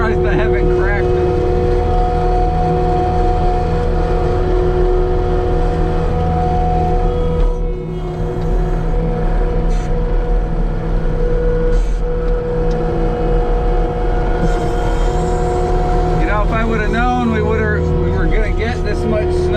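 A New Holland skid steer plowing snow, its engine a loud, steady diesel drone with hydraulic whine heard from inside the cab, rising and shifting briefly near the end, with no talking.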